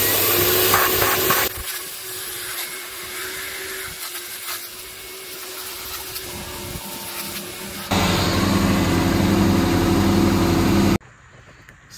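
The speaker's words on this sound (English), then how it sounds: "now I can turn on the vac and start blasting it" Autool HTS558 walnut media blasting machine with its vacuum running on a Mazda 2.2 Skyactiv engine: a loud, steady close-up vacuum roar with hissing blast air that shifts in tone as bursts start and stop, cutting out at the end.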